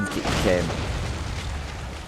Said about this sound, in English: there is some brutal cannon shots coming in though from the Hungarians